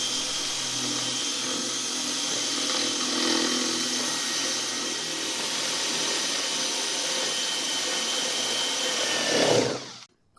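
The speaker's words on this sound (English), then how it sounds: "I'm just going to drill these out rather than mess around with them." A power drill whines steadily at close range for about ten seconds drilling out screws on a wooden table saw fence, then cuts off abruptly near the end.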